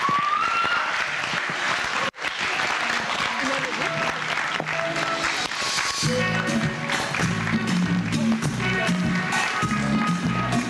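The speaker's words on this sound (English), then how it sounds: "So let's give a round of applause to these wonderful change makers as they take their seats." Audience applause at a youth partnership convening, a loud, dense, sustained clapping that briefly cuts out partway through, then continues with a voice speaking over it.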